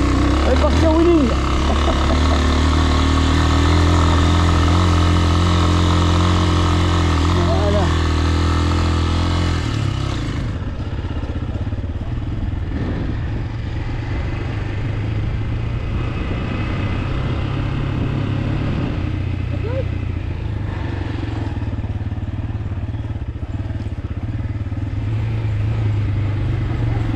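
A truck engine labours off-road up a slope, a loud close low drone and rumble that shifts character partway through, continuing steadily as people talk over it.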